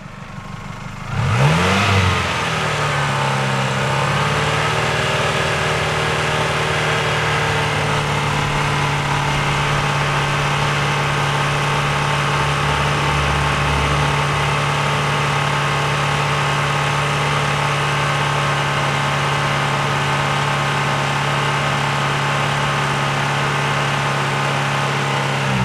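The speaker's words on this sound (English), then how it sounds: "we might have to rev the engine" The engine of a 1996 Toyota Camry with a new water pump and timing belt starts with a brief rising rev, then settles into a steady, close idle that drones on evenly for the rest of the clip.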